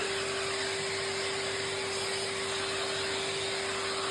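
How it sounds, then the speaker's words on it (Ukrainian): A carpet extractor drives cleaning solution onto dirty carpet with a loud, constant hissing spray over a steady motor whine, unbroken for the whole stretch and with no voices. "подаємо через екстрактор наш засіб"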